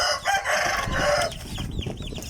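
A white Kelso gamefowl rooster clucks up close in a series of loud, harsh, rapid clucks with no talking over it.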